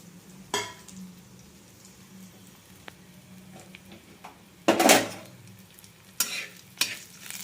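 Chutney ingredients fry in a little oil in a pan, with a faint sizzle broken by a few sharp bursts of stirring and spatula scrapes, the loudest near the middle.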